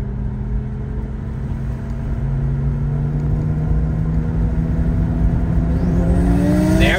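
A 1200 whp JZ-swapped BMW E30 street races a twin turbo car at TX2K, loud sustained engine roar climbing steadily in pitch as the cars accelerate hard, with no talk.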